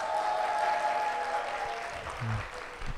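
Church congregation at a youth devotion service clapping for the young people, a continuous soft rattle of hands that dips slightly midway.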